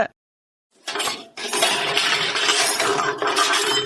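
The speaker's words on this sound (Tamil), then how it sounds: "எம்மையா பாத்திரத்தெல்லாம் போட்டு உருட்டிட்டு இருக்க" After a brief silence, metal pots and vessels clatter and clang loudly in a household kitchen, a dense close rattle of clinks and bangs that runs on almost without a pause.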